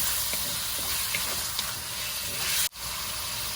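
Shrimp stir-frying in a hot pan for Thai garlic-pepper shrimp, giving a steady, dense sizzle and hiss close by that cuts out briefly near the end. No voices.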